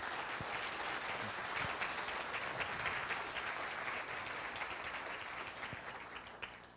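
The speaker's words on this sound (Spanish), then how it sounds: "yo les pediría de verdad para ellos un aplauso" Applause for the organising team at an education seminar, a dense, even roar of many people clapping that holds steady and tapers slightly near the end, heard without voices.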